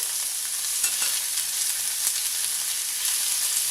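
Chilies and minced garlic fry in hot oil, a steady close hiss and crackle with faint pops, heard alone.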